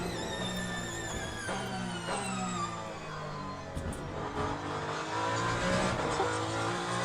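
Ferrari hypercar racing at Imola in Le Mans Ultimate, its engine a steady, layered whine that climbs and shifts through gear changes, with other engines droning close behind throughout.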